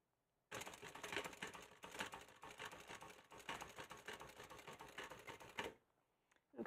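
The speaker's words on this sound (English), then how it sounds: "I'm going to stitch it from the inside using 1/4 inch" A sewing machine stitching a bag seam from the inside at a quarter-inch allowance runs steadily for about five seconds, a close rapid mechanical chatter that starts abruptly and stops, followed by near silence.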